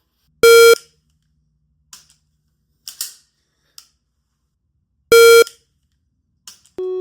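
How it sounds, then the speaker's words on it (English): Shot timer in dry-fire training: two loud, sharp electronic beeps several seconds apart, with faint clicks between them and a brief lower tone at the end. "There's a beep process, like, you know, get ready as beep"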